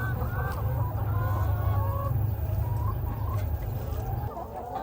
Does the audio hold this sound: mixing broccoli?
no